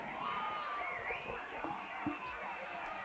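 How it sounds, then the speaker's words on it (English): High school football crowd cheering and shouting excitedly from the stands during a goal-line play before halftime, a busy wash of voices and whoops at moderate distance, with whistle-like tones and talk mixed in. "So the crowd is getting excited here on both sides."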